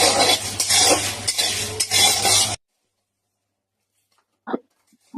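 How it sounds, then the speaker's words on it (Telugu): Dry coconut, cinnamon, cloves, garlic cloves and dried red chillies are dry-roasted and stirred in a pan. Close, busy scraping and rattling runs for about two seconds and stops abruptly, leaving silence broken by one soft clink near the end. "ఎండు కొబ్బరి, చెక్క, లవంగ, వెల్లుల్లిపాయ రెబ్బలు, ఎండుమిర్చి బాగా వేయించుకోవాలి."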